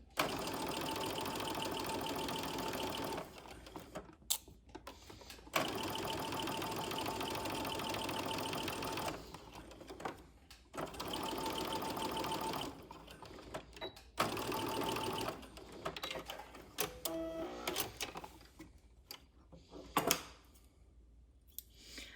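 A sewing machine runs loud and close, stitching a French seam in charmeuse fabric in several steady bursts of rapid whirring and needle chatter, separated by short pauses and quieter handling sounds near the end.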